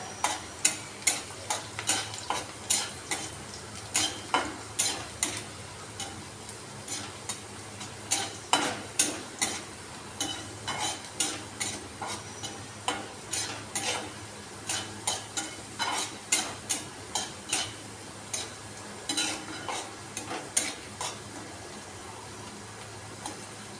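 Dried red chilies fry in hot oil and are stirred in a pan, with a steady sizzle under a run of rhythmic spatula scrapes and taps against the pan, close and fairly loud.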